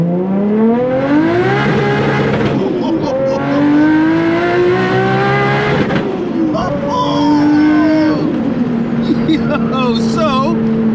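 A straight-piped Nissan Skyline R33 accelerates hard through a 0 to 60 run, its loud raspy exhaust climbing in pitch through several gear changes, close and dominant over the whole stretch.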